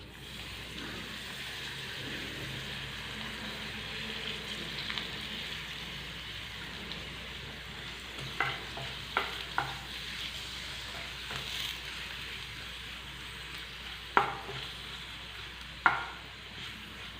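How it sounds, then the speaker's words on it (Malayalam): Torn pappadam fries in a little coconut oil in a pan, a soft steady sizzle with occasional sharp crackles and pops of stirring near the end. "ആ പപ്പടം ഒന്ന് കൈകൊണ്ട് തന്നെ ഒന്ന് ഒന്ന് പിച്ചെടുത്തിട്ട് ഇതിലേക്കിട്ടൊന്ന് വറുത്തെടുക്കാം."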